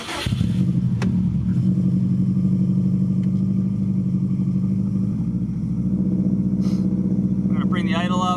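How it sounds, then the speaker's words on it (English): Subaru WRX STi engine running during cam break-in, a loud steady idle with a rough, uneven beat that rises slightly toward the end, close up, with no talking. "I'm gonna bring the idle up, vary it a little bit so we can break in those cams"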